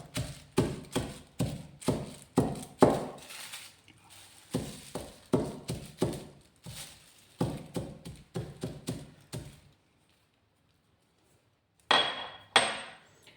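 Tablets being crushed into powder for a house-fly floor-mopping mixture, heard as a long run of close, sharp pounding taps in rapid bursts, a pause, then two more strikes.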